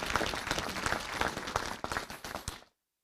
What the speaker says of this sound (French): je crois qu'ils méritent effectivement nos applaudissements